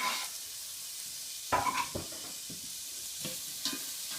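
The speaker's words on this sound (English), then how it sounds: "So I just put some onions." Onions sauteing in a pan, a soft steady sizzle broken by a few sharp clinks and scrapes of a utensil stirring, close and moderately quiet with no voices.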